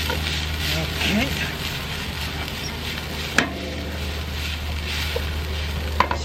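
Shrimp sautéing in a hot pan for a fried shrimp dish, a steady soft sizzle with light stirring and a couple of sharp utensil clicks, while a voice talks faintly underneath.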